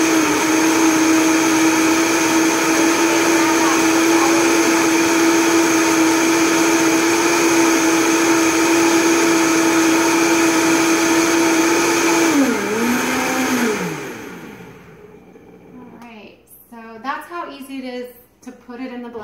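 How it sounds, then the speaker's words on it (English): A full Vitamix blender purees raw soup with a loud, steady high-speed whine that runs for about thirteen seconds, then dips in pitch and winds down, and people start talking just after it stops. "The Vitamix is full, and we'll put the top on and get it going"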